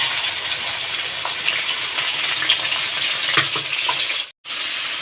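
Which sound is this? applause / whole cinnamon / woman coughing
whole cinnamon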